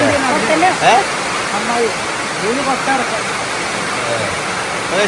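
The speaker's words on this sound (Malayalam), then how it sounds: "പെരും മഴ കേട്ടോ" Heavy rain pours down in a steady, loud, dense roar that fills the whole scene, while voices talk over it intermittently.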